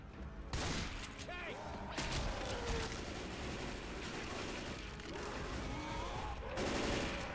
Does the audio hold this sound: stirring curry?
no